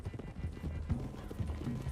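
Horse hooves clip-clop in the Red Dead Redemption 2 video game as riders head for the hills, with a steady rhythmic clatter close by and a hint of a whinny.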